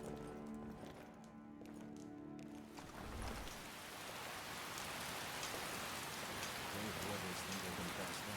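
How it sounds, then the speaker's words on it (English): Steady rain in the video game Skyrim patters down, building from a softer start into a dense, even hiss of drops that continues without pause. "It's raining."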